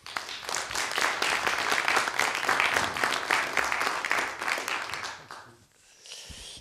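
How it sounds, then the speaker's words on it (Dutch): An audience applauds Kees Verhoeven at an information evening in Utrecht on the Dutch surveillance law: loud, dense, sustained clapping that fades out after about five seconds, leaving quieter room noise. "geef hem een applaus"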